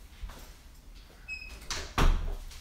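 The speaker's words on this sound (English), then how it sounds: "Gotta close this door," A door is pushed shut indoors, with a short scrape and a few light knocks building to one solid thud near the end, close by and without talk.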